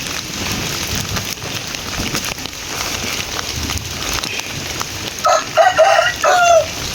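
Steady rain patters throughout while a fighting rooster in a traditional village crows once near the end, clear and fairly close.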